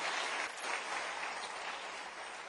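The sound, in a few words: applause for the King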